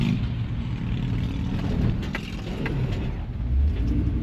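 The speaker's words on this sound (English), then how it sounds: "That's what a good old V8 sounds like" The V8 engine of a 1985 Dodge Ram D150 truck idles steadily close by, with a low throaty growl that swells slightly now and then, no voices present.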